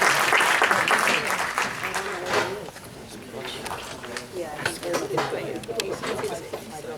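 School board meeting audience giving a group of students another round of applause, a burst of clapping strongest in the first couple of seconds that gives way to people talking.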